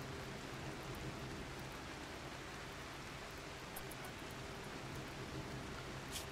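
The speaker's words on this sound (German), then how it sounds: "Was ist denn das für ein Regen, Alter?" Steady rain in the video game RimWorld, a dense, even hiss of falling drops that holds at a constant low level throughout with no voices over it.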